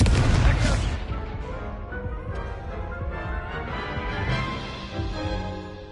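A Confringo fire spell detonates in the video game Hogwarts Legacy, opening with a heavy, booming blast that fades into a rumbling, ringing tail under game music.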